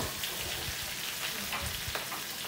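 Mushrooms, including oyster mushrooms and wood ear fungus, stir-fried in a pan for vegetarian fried noodles: a steady close sizzle with the scrape and clatter of a spatula tossing the pieces, with no voices.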